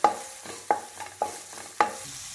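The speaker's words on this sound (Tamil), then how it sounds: "இஞ்சி பூண்டு விழுது, இது நல்லா பச்சை வாசனை போக வதக்கணும்" Ginger-garlic paste sautéed in a pan with softened onions: five sharp spatula scrapes at an uneven pace against a soft background sizzle, with no voices.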